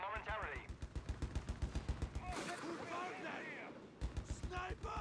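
Rapid machine-gun bursts and rifle volleys from grenadiers and a sniper in Company of Heroes 3, a fast rhythmic train of shots with a brief pause, while a commentator talks over the fire.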